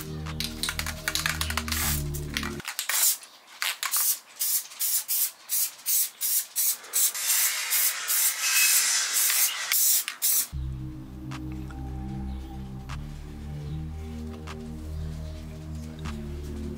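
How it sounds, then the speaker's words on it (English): A steady hiss of Gorilla spray adhesive runs in a series of short bursts, then one longer spray, coating car interior parts, framed by a low mechanical hum before and after. "So we're gonna be using the Gorilla Spray adhesive,"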